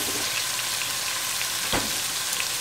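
Garlic browning in a hot pan for Italian stuffed shells, giving a steady, close, dense sizzle with one brief sharper crackle partway through and no voices.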